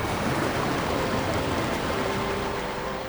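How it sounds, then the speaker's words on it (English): Water flowing in the video game Disney Dreamlight Valley, a steady dense rushing wash that stays loud and even throughout, with no speech. "The water is flowing again."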